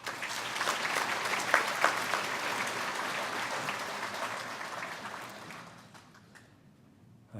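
Sustained applause from a congregation welcoming a guest pastor at a church dedication service, steady and full for several seconds before tapering off near the end.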